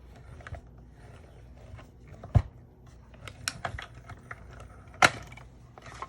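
Plates holding sheep dies are cranked through a manual die-cutting machine, giving faint mechanical clicks and ratcheting ticks with a couple of sharper clacks in an otherwise quiet room.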